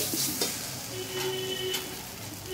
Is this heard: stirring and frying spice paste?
yes